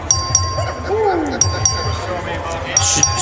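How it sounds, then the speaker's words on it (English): A thin, sustained bell tone, rung to call a legislative vote, rings steadily with faint dings over a murmuring chamber of voices and shuffling. "The clerk will ring the bell."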